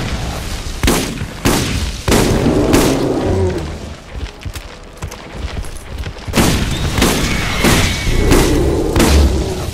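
Rapid gunfire and heavy booming explosions from a Borderlands firefight, with dense repeated shots and thuds at close range in loud bursts, easing briefly midway before the shooting picks back up.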